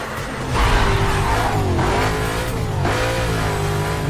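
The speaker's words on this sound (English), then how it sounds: "This car sounds like a monster." A car engine in the racing game Need for Speed Carbon revs loudly and close, climbing and dipping in pitch as it accelerates, with faint tire squeal mixed in.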